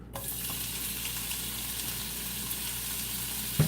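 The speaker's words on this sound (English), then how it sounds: "Okay, so the pan is hot." Shrimp and garlic hit a hot pan and fry with a steady, hissing sizzle throughout, close and fairly loud, ending with a brief clatter near the end and no talking.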